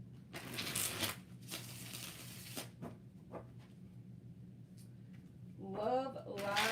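Tarot cards being shuffled, several dry riffling bursts close by, with a voice talking at the end.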